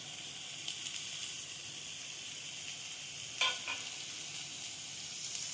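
Grated coconut is stirred into beans frying in a pan for Tamil beans poriyal, giving a faint, steady sizzle with one brief scrape of the spoon partway through.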